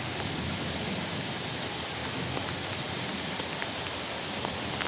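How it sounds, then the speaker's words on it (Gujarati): Heavy monsoon rain pours down steadily in Junagadh, a dense, continuous hiss of water on surfaces that stays loud and unbroken throughout. "ખૂબ જ ધોધમાર વરસાદ આવી રહ્યો છે"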